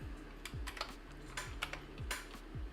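Computer keyboard typing during a live 3D CAD modeling session, a steady run of quick close key clicks with short pauses, over a low constant electrical hum and no talking.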